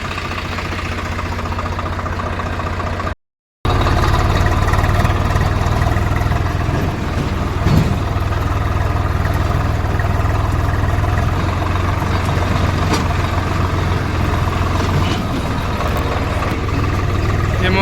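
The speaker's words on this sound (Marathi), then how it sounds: "नदीतूनच आता हे ट्रॅक्टर घराकडे घेऊन चाललो आहे" A tractor engine rumbles steadily and loudly nearby as it drives through a river, a continuous low drone that cuts out briefly before resuming.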